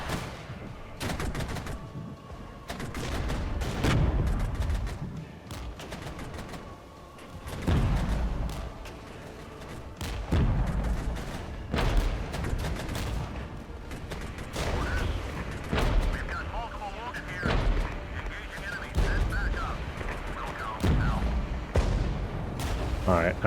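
Battle in the wargame Regiments with mortar crews dug in: repeated heavy booms and thuds of mortar and artillery fire mixed with scattered gunshots, irregular blasts over a steady din, with a voice talking throughout.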